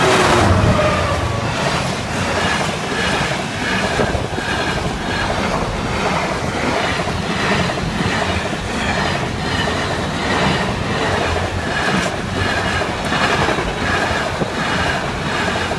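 Freight train on the Doncaster line rolling past Park Drain level crossing, a loud continuous roar with rhythmic clickety-clack of wheels over rail joints and occasional metallic squeal, close and sustained throughout.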